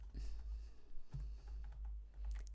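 Keys tapped on a computer keyboard while entering a cell format code in a spreadsheet: a few light, irregular clicks close by, sparse and quiet over a low hum.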